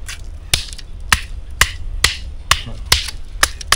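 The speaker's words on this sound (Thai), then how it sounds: "ตัวนี้ก็เหลาให้แหลมๆนะครับ" A knife whittles a wooden stake to a sharp point for a spring-pole trap in the forest, giving a steady series of crisp, close cutting strokes about twice a second with no talk.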